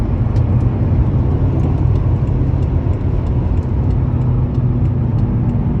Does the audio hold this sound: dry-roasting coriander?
no